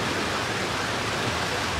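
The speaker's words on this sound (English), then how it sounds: "Well, the rain's coming down pretty good now." Rain pours steadily onto an outdoor tarp shelter, making a dense, even hiss of drops that stays loud and unbroken throughout, with no voices.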